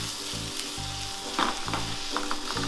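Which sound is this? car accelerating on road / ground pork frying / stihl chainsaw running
ground pork frying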